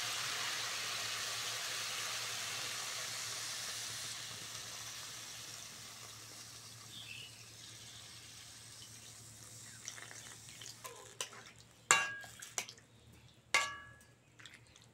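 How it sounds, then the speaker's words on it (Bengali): Water poured into a hot cooking pot for a thin Bengali fish curry with bottle gourd greens hisses loudly, then gradually fades to quiet, followed by a few sharp knocks and clinks. "এইবার জল দিয়ে দেবো।"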